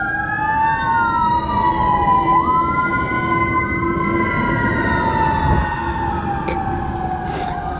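A fire truck's wailing siren sweeps up and down continuously, loud and close, over a low engine rumble as it passes by.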